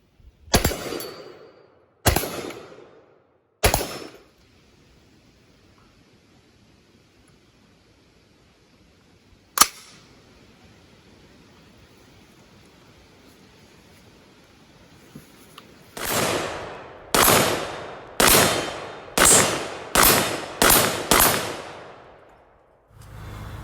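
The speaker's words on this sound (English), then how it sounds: "after several rounds through the Tavor, or Tavor, Tab, however you say it, this has been an awesome gun" A Tavor X95 bullpup rifle fires three widely spaced shots and then a single sharp report. After a quiet stretch comes a rapid string of about seven loud, close booming shots, each decaying with a long outdoor rumble.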